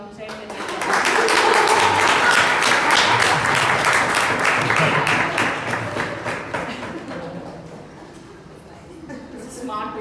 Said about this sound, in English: Maybe we should just applaud a little bit because 2 people are waiting outside.